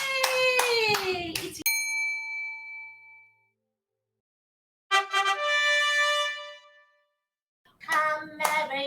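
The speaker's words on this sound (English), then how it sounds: "Come everybody, clap your hands. Clap, clappity clap." Children clap their hands during a nativity play practice: a quick run of sharp claps, mixed with ringing, bell-like musical tones, then pauses and more tonal bursts.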